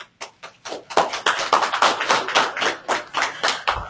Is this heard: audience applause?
yes